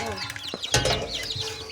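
Young chicks chirp in a brooder with high, rising and falling peeps, close and clear. A short knock interrupts them partway through.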